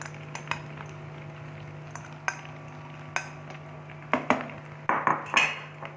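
Utensil stirring mashed egg yolks frying in hot melted ghee for egg yolk halwa, with scattered clinks and scrapes against the pan that grow busier toward the end, over a steady low hum; no talking.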